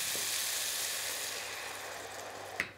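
Broad beans and peas cooking in a pan with a glass of water over high heat give a steady, even sizzling hiss throughout, with a small click near the end.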